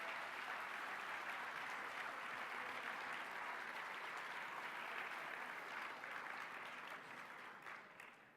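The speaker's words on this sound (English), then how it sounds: "I'd like to see a round of applause for those people who are here tonight supporting us" A round of applause at a physicians' awards dinner, sustained many-handed clapping across the room that holds steady for several seconds before thinning and fading toward the end; faint and distant overall.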